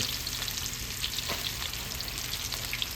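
Okra frying in a pan of hot oil, a dense, steady crackling sizzle with faint pops throughout, close and even, with no voices.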